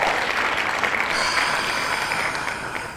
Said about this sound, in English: Let me see if we can get a hand clap for bro joining the podcast.